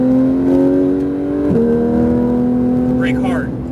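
A Porsche 991 GT3 RS engine revs loud and close on a race track, a steady high-pitched wail dipping briefly at a gear change before climbing again, with an instructor's voice talking over it.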